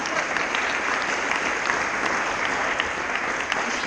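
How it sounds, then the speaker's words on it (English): An audience claps steadily at a bike story night in a library, a dense, even round of applause that carries without a break and with no voices over it. "put your hands together for Julie"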